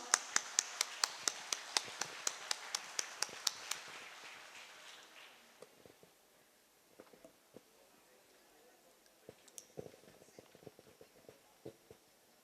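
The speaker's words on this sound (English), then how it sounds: "Please give him a big hand of applause" Hands clapping for a speaker at an indoor staff family celebration, a small group's sharp, close claps coming in a quick run and then thinning to scattered taps, with some faint voices in the background.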